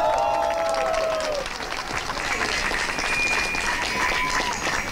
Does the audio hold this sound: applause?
yes